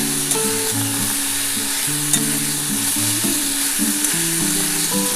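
Bitter gourd, raw banana and potato fry together in a pan with turmeric for a Bengali chorchori, a steady sizzle broken by repeated stirring and scraping of the pan, close and continuous with no talk.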